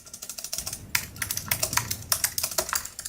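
Rapid, uneven keystrokes on a $100 computer keyboard: sharp, close clicks in quick bursts with small pauses, fairly loud and with no voices.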